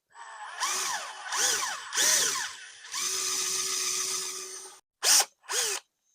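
Power drill enlarging a hole for an M4 bolt while assembling a Quicko T12 soldering iron kit, heard as several short whining bursts followed by a longer steady run and two quick final spurts, all close and clear.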